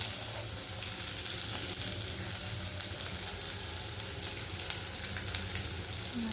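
Chopped onions sauté in a kadai with red chilies and mustard, giving a steady, close frying sizzle that stays even throughout, with faint stirring scrapes and no talking.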